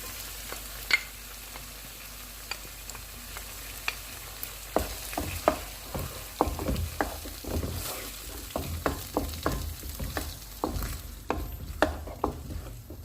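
Spinach and cream cooking in a pan for palak paneer, a continuous sizzle with a run of clinks and scrapes from stirring that grows busier in the second half.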